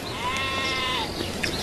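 A sheep bleats in one long, wavering call that fills most of the moment, with a faint second sound near the end and steady background noise underneath; a farm setting within a Christmas movie scene.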